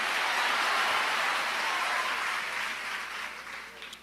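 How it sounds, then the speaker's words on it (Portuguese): A church congregation claps together in a dense, even wash of applause that gradually thins and fades out over a few seconds. "Você pode aplaudir ao Senhor e misturar nessas palmas glória e aleluia"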